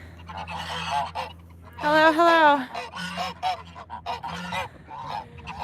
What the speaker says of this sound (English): Over here are the geese.